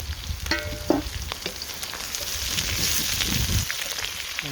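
Sliced green chilli and onions hit hot oil in a pan for lamb salaan, a loud crackling fry with brief clatters of stirring, settling into a steady, close sizzle; no one speaks.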